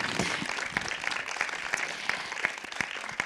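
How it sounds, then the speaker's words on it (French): An audience at an evening panel discussion applauds the speakers, brisk scattered clapping that holds steady for a few seconds with individual claps standing out sharply. "nous pouvons déjà applaudir toutes les intervenantes ce soir."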